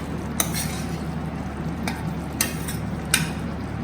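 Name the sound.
stirring sweet and sour paneer sauce in pan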